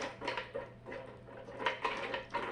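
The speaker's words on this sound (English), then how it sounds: "So I'm going to go ahead and kind of like stir this all in there" Food being stirred in a Ninja Speedi cooker pot, chicken and potatoes coated in sauce, gives soft, repeated scraping and clinking taps of a utensil against the pot, close and fairly quiet, with a low steady hum underneath.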